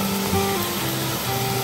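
Steady broadband rush of a forest waterfall in Sulawesi, a constant wash of falling water, fairly close and even throughout, with no voices.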